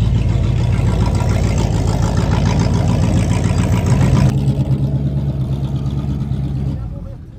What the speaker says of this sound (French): C'est les voitures de course américaines.